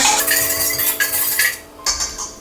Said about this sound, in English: Just give that a little stir.